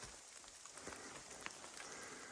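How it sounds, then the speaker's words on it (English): Heavy rain pours steadily on an outdoor tarp and bivy camp beside a lough, a dense, even hiss of drops with scattered sharper patters, no voices. "It's pouring with rain, but it's been a good camp."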